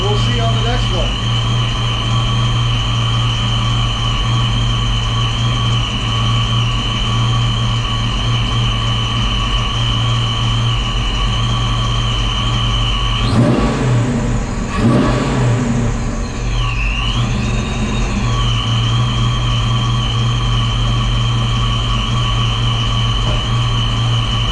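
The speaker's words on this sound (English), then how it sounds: "Man, listen to how that thing just sets right down on idle." A Fox Body Mustang engine fitted with a Holley Terminator X idles steadily, with a short burst of revving midway before it settles back to a smooth idle; the car is close and loud throughout.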